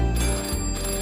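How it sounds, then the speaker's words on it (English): Telephones ring all over a village in a 1997 Postman Pat children's episode, giving a loud, continuous electronic trill that fills the short moment with no voices. "The phones were ringing again, all over Greendale."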